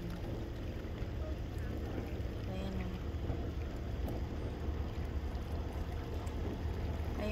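A tour boat runs on Lake Arrowhead with a steady, continuous low engine drone mixed with wind noise. The sound stays even throughout, with no clear breaks.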